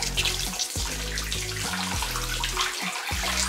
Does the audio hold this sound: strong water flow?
yes